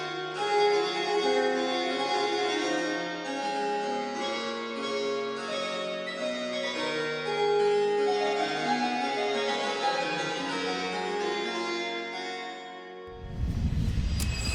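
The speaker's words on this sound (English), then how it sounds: "The harpsichord was widely used for solo works, vocal accompaniments, and continue playing in Baroque music." A Baroque harpsichord plays a steady run of bright, plucked notes for most of the stretch before stopping, and a burst of noise follows at the very end.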